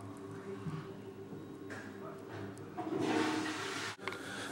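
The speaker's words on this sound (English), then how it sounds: "I heard the flush." A household toilet flushes in a quiet bathroom, a steady rushing swell of water building and then cutting off abruptly near the end, heard from behind a closed door.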